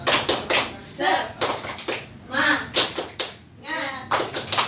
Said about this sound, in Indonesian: Nah, tepuk tangan buat kita semua Bu ya.